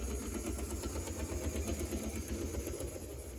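An HO scale Tyco Midnight Special model train motor runs with a steady whirring hum and a faint rhythmic clunking from uneven traction tires or a cracked gear, close and quiet, with no talk.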